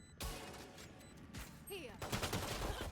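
Bursts of rapid gunfire in the tactical shooter Valorant during a competitive college esports match, dense and loud, with game sound effects and some speech mixed in.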